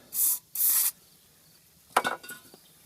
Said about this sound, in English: Have a little bit of carburetor cleaner here. We're going to go into the bushings right here. A little spray.